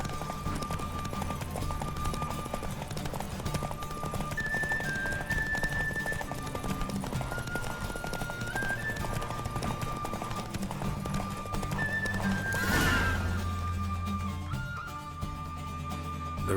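Horse galloping in a race in The Witcher 3, steady rapid hoofbeats under game music and wind, with a brief whoosh swelling near the end.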